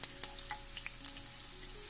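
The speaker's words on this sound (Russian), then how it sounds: "Обжариваю лук до состояния мягкости и прозрачности." Finely chopped onion sizzles in hot vegetable oil in a frying pan, a quiet steady crackle with a few small pops, no talking.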